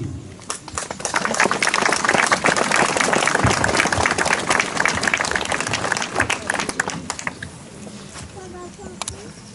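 Crowd applause for resistance fighters at an 80th anniversary Liberation parade and memorial stone unveiling in Alsting, loud dense clapping that swells early, then gradually thins into scattered claps with faint voices near the end.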